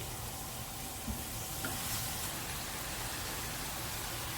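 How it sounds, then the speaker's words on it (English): Bicol Express being stirred in a pan, a steady soft sizzle and hiss of frying with faint scrapes of the spoon, no talking. "Give it a good stir and get it cooking."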